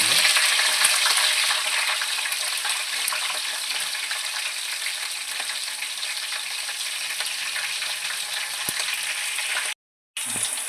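Mustard seeds, cumin, curry leaves and green chillies temper in hot oil, a loud continuous sizzle and crackle heard up close for nearly eleven seconds, with a brief cut near the end.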